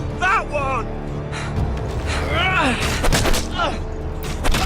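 Gunfire crackles in the Telltale Game of Thrones game on PS4, a few scattered shots and thuds mixed under shouting voices and steady game ambience.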